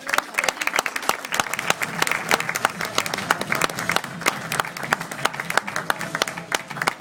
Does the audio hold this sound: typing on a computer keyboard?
no